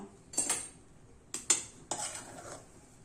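A metal spoon scrapes and clinks against a pot while gram dal pithle with coriander is stirred, three short bursts of stirring separated by quiet pauses, close and fairly soft.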